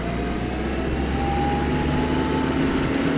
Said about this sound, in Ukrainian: Думаю, ви відчуваєте, що це Тракторець значно швидший, ніж зазвичай ми тут оглядаємо